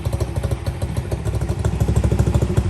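Honda S65 motorcycle engine running with its exhaust baffle removed, a close, loud, rapid popping putter with a steady thumping rhythm.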